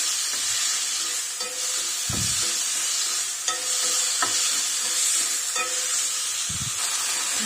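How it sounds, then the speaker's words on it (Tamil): Okra stir-fries in a pan with onion and tomato, a continuous bright sizzle with occasional scraping stirs and light clinks of a spoon against the pan, close and steady with no talking. "இப்போது நம்ம அந்த வணக்கி வச்சிருக்க அந்த வெண்டைக்காயை இது உள்ளார போடுறோம். போட்டு நல்லா வணக்குறோம்."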